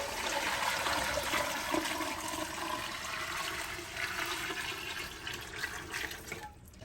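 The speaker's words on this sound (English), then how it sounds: "So Dad's getting the water in." Water runs steadily from a tap as it is poured for canning jars of deer meat, a continuous rushing splash at moderate level that tapers off at the end, with no talk.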